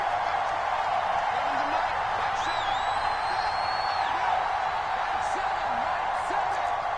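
Steady roaring stadium crowd in a football video game, a constant wash of cheering and noise with a few faint whistles rising above it, no pauses throughout.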